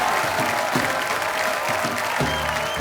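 A studio audience at a televised comedy show applauds to welcome a guest, a loud sustained roar of many clapping hands filling the whole stretch, with a voice faintly under it near the end.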